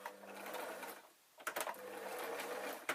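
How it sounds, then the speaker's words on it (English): A sewing machine stitches a denim skirt pocket in two close, steady whirring runs split by a brief pause, with a few sharp clicks between them. "I'm going to be sewing quite far in"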